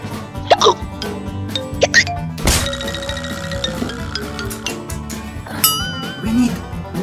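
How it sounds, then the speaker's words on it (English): A cartoon character hiccups in a funny children's story, giving a few short, sharp gulping hiccups over a busy backdrop of music and sound effects. "it's just a hiccup"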